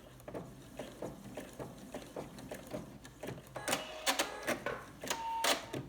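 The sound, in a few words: sewing machine tying off stitches on quilt binding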